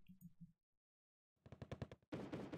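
Dual Browning machine guns fire in the Wargame: Red Dragon video game as a quiet, rapid string of sharp bursts, followed by a denser burst of fire after a short silence.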